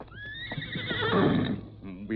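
A horse in a radio drama gives a loud, close whinny that rises sharply and trails off into a shaky, fluttering neigh, ending with a short snort.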